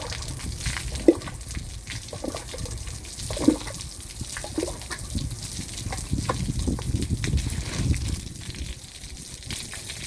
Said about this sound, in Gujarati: ચલો ગાઈસ ચોખ્ખા પાણી ધોઈ લઈએ.